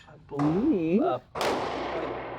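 A single sharp shot from a subcompact pistol fired by a blind shooter cracks out close and loud, with a decaying tail, right after a brief voiced sound.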